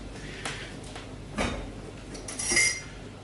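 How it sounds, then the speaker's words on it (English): A teaspoon is picked up from among cutlery in a kitchen, with a few close metallic clinks and clatters of utensils against each other and dishware, brief and quiet with no talking. "So let's grab a teaspoon."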